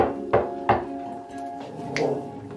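Knocking on a door during a dog training session with a whippet Patterdale cross, a couple of sharp knocks followed by a later third knock.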